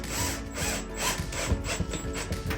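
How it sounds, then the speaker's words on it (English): A cordless drill drives screws into a ceiling-mounted curtain track, giving short close whirring and grinding bursts against a rough wooden rubbing texture, with no talk. "to stop it from sliding and to actually secure it and secure the anchors, we're just going to tighten those screws up"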